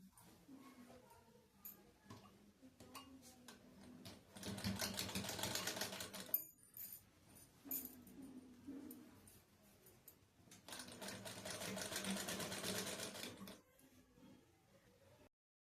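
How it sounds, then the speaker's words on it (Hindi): A sewing machine stitches along the edge of fabric in two sustained bursts of rapid, even mechanical whirring, each lasting a few seconds, with quieter pauses and faint handling sounds between them. "किनारे किनारे हल्का सा एकदम से किनारे किनारे से सिलाई करनी है"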